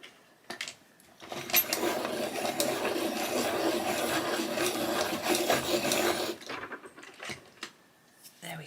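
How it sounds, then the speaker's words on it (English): A Prismacolor colored pencil in lemon yellow is sharpened, giving a steady grinding, rasping whir for about five seconds, close and fairly loud, with brief clicks and handling before and after. "I'm just going to sharpen it"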